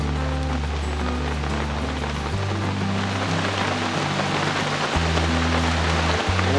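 Heavy rain falling at a forest campsite, a dense steady hiss of drops pattering close by, with a low hum underneath and no talk.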